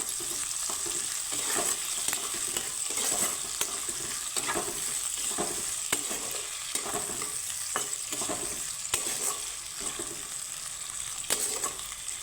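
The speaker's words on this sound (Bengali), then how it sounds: "পেঁয়াজটাকে আমি হালকা ব্রাউন করে আমি ভেজে নেব" Chopped onions fry and sizzle steadily in a hot pan while being stirred until light brown, a dense continuous hiss with intermittent scraping strokes of the spatula, close and with no talking.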